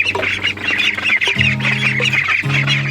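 Ducks quack loudly and repeatedly on a farm on a humid morning, nasal squawks overlapping with other farm fowl calls, close by and continuous throughout.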